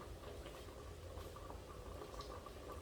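Cranberry beans boil in a pot on a stove, giving a steady, close bubbling and simmering wash with soft pops throughout and no talking.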